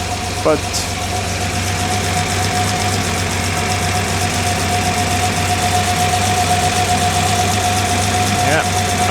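A daily-driver car engine idles steadily as it warms up after repairs, with a fan blowing; a constant low drone runs throughout, and a person speaks briefly over it.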